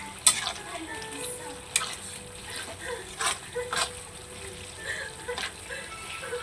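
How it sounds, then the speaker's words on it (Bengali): Ghee simmering in a pan makes a gentle bubbling sizzle with light splattering pops. Occasional stirring scrapes sound close by, and the whole level stays fairly quiet. "দেখো কি সুন্দর আমার ঘি বেনে আসতেছে"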